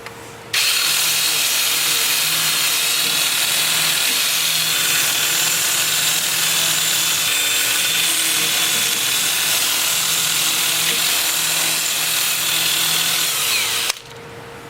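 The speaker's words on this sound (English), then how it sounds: "I'll switch to my 2-inch disc starting at 80 grit. I'll have the piece spinning in reverse at about 350" A 2-inch 80-grit sanding disc works a live oak piece on a lathe that spins in reverse at about 350. A loud, steady power-tool whine and abrasive hiss start abruptly, hold close and constant for about thirteen seconds, then cut off.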